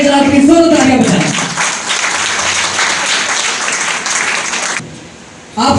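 A church congregation claps loudly after the preacher calls for applause. His voice is heard briefly at the start, then thick, sustained clapping fills the room for several seconds before cutting off sharply near the end.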